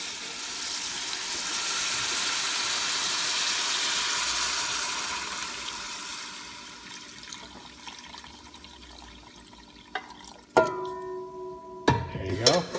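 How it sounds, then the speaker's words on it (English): Beef broth pours into a pot of oxtail kare kare in a long steady liquid rush that fades out, followed by a few sharp clanks of a utensil or lid against the pot. "Now let's add our beef broth."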